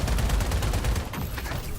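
Rogue turret firing at a spaceship in a video game, rapid repeated bursts of gunfire in a fast stuttering rhythm, loud and close, fading slightly toward the end.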